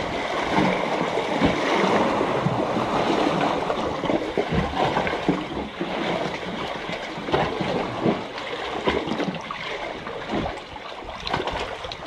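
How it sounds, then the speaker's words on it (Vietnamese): Large sea waves surging against a rocky island shore near a cave, a continuous broadband wash of surf with rolling swells, loud and close, without speech. "Cái sóng to lắm."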